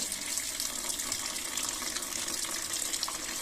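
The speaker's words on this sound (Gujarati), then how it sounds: "તમે અહીંયા જોઈ શકો છો કે પાણી અહીંયા આવી ગયું છે. ઓકે, તો પ્રોપર એને પાણી બહાર આવવા દો." Water streams steadily from an instant mini water geyser tap, a continuous hissing gush heard up close without talk, with a few small sputters from trapped air.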